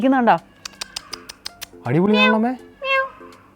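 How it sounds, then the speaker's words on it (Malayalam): A kitten meows several times, thin rising and falling cries with a string of short clicks and taps between them, close by. "കുഞ്ഞു പൂച്ച അല്ലേ കുഞ്ഞു പൂച്ച"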